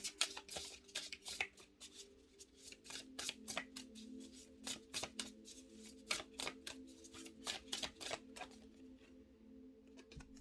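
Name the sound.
shuffling oracle cards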